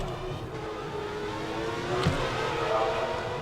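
Race car at speed during a Singapore free practice session, a steady engine drone with a brief swell as it passes, under a commentator's voice.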